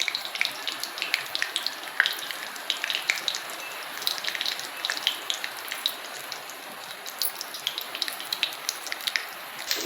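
Cumin and mustard seeds spit and crackle in hot oil heated for a vegetable palya, giving scattered sharp pops over a soft, steady sizzle with no talking.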